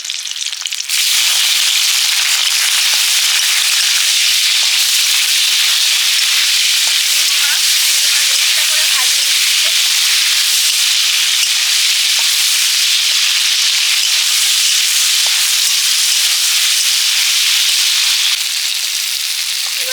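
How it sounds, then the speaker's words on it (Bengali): Dry red chillies, bay leaves and green chillies sizzle loudly and steadily in hot mustard oil, a dense, unbroken hiss that runs close and strong from start to finish. "সর্ষের তেলে দিলাম শুকনো লঙ্কা তেজপাতা কাঁচা লঙ্কাও দিয়ে দিয়েছি"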